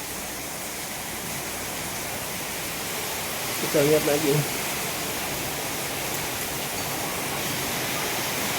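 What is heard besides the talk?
rain still falling outside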